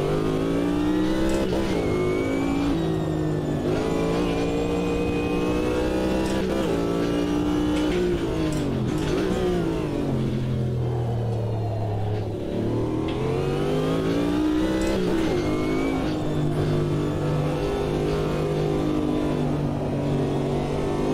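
Chevrolet Corvette GTP race car engine in Automobilista 2, revving hard and climbing through the gears with repeated upshifts, a loud, close, continuous roar throughout with no talk.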